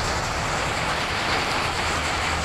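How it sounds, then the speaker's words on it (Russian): Hail falling during a rain shower beside a roadside town stele in Mariinsk, a dense, steady broadband rattle and hiss that stays even and close throughout, with no voices. "Град идет."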